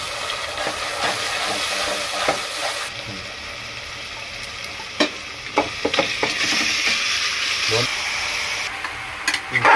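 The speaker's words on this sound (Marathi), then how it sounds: "तेल गरम झालेले आहे। आता यात मी कांदा टाकून घेते।" Onion and tomato frying in hot oil in a pan while cooking a chicken dish, a steady close sizzle with scraping stirring clatters and a few sharper knocks, continuing throughout.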